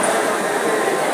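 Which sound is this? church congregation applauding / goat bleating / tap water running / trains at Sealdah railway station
trains at Sealdah railway station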